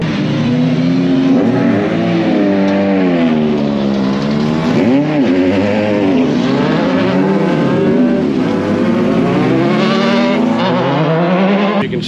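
A superkart engine runs on a race track in a loud, continuous high-pitched drone whose pitch rises and falls steadily as the kart accelerates and slows through the corners, heard close with no talk.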